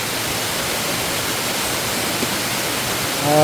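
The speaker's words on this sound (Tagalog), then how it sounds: "Dito kami sa bandang sapa." Steady rushing wash of a flowing stream, broad and constant at close range, with no talking over it.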